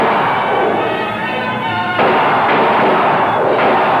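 Gunshots are fired at Dracula in the 1966 film Billy the Kid versus Dracula, a loud thudding report with a sharp jolt near the middle over a noisy, resonant soundtrack.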